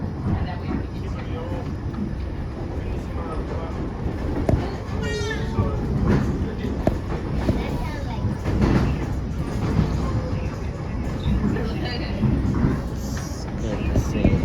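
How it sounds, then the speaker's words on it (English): Steady rumble and rattle of a train rolling along tracks, with people talking faintly over the continuous clatter. "the sound of the train and the track rattling, the rocking back and forth."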